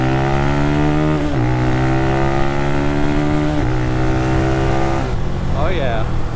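An RPS Cruiser 300 EFI motorcycle, a fuel-injected, liquid-cooled 6-speed, accelerates hard from 0 to 50 into the rev limiter. A loud, close engine whine rises in pitch through three gear changes, each marked by a brief drop before climbing again.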